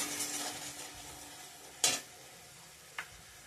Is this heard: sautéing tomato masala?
yes